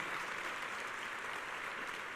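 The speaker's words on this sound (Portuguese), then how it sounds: "Se você crê, aplauda Jesus o mais forte que você puder." A church congregation applauds during a worship service, a continuous wash of many hands clapping, faint and even in level, with no voices standing out.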